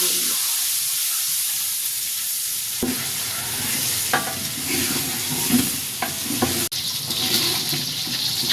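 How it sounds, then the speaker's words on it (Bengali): Eggs fry in hot oil in a pot with turmeric and a pinch of salt, a steady hissing sizzle with a loud splash and crackle as they are poured in, and scraping stirs over the bubbling. "এখন ডিমগুলোকে ঢেলে দিব।"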